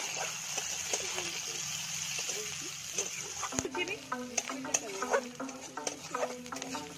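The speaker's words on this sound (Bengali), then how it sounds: "সরষের তেল দেওয়ার পরে পেঁয়াজ কুচি, দুটো চেরা কাঁচা লঙ্কা, সামান্য নুন দিয়ে ভালোভাবে ভেজে নেব।" Chopped onion, split green chillies and salt frying in hot mustard oil in a pan, a steady close sizzle with stirring scrapes and soft clicks throughout.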